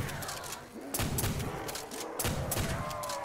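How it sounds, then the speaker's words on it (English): Shotgun blasts in Black Ops Zombies, several sharp loud shots at an irregular pace, dense with game noise and layered clutter throughout. "why are you shooting that shotgun like you're right next to me"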